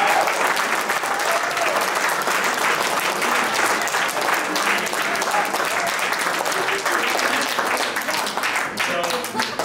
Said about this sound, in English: She is a runner-up, so the momentum of the clap has to be much more higher.